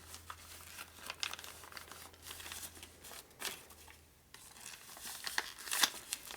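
Crank pin from a 1983 Harley FXRT 80ci shovelhead dropped into a plastic baggie already holding oil, giving close crinkling and rustling plastic sounds in bursts, with a low steady hum underneath.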